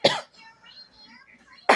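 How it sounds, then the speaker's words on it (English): A person gives two short, sharp coughs, one at the start and another near the end, separated by a quiet stretch with faint background sound. "I'm coughing"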